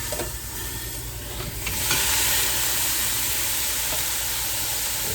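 Drained sausage and ground meat sizzling as they go back into a hot chili pot, with a steady close hiss and frying crackle that grows louder partway through.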